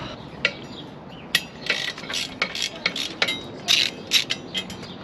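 A ratchet wrench clicks in short, uneven bursts while loosening the skid plate bolts on a Kawasaki KLX110 dirt bike, with sharp metallic ticks close by against a quiet background.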